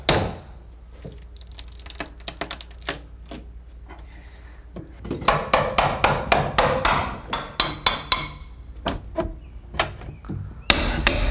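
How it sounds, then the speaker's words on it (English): A big hammer pounds away at rotted wood on a house exterior, landing in sharp, close strikes that start sparse and then come in a fast, rhythmic burst of repeated blows, with no talking. "Got the big hammer."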